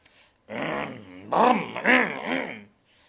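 A deep, rumbling growl of a bear, voiced by a person imitating the animal, comes in three swelling bursts, close and fairly loud.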